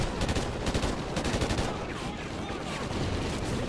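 Sustained gunfire in a Ghost Recon tactical shooter game, with dense overlapping shots and bursts that run continuously and loudly from start to finish.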